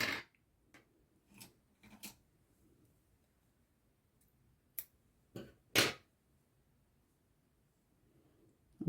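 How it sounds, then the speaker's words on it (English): Scissors cut wool yarn at the end of a hand-knitted cardigan sleeve, giving a few quiet, sharp snips spread across the moment in an otherwise hushed room. "So I'll cut some wool off."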